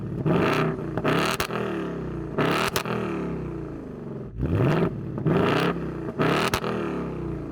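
A Ford Mustang Dark Horse V8 fires up and revs repeatedly in park, several sharp bursts of engine roar rising and falling close by, with brief clatter between revs.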